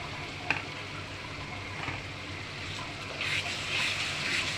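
Chicken roast masala with ginger and garlic is sautéed in a pan, giving a steady, close sizzle with a soft stirring scrape and a slight swell in the frying hiss toward the end.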